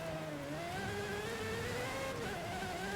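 Aston Martin Valkyrie hypercar engine in Forza Horizon 5 racing off-road at high speed, a loud, steady, close engine whine whose pitch rises and dips gently, with no talking.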